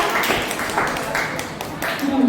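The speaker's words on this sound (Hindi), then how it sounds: "वाह, तालियां बजाओ" Children clapping hands at a summer camp class, a short scattered round of claps that fades and rises, with an adult voice talking over it.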